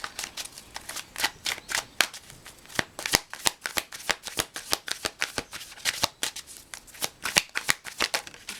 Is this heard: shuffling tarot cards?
yes